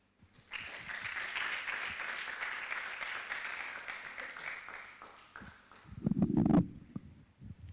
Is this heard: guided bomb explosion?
no